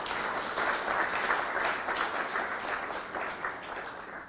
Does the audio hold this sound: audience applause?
yes